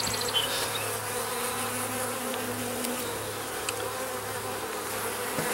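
Honey bees swarm and feed on honey-filled frames at an open hive, a steady dense buzz close by with a low droning hum throughout, no voices.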